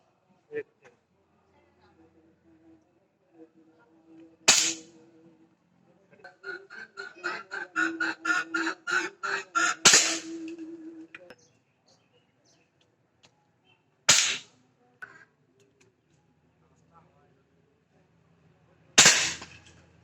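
Daina Mod 35 air gun firing shots from about thirty feet, four sharp separate cracks spaced several seconds apart, with a burst of chattering bird calls between them and someone talking faintly.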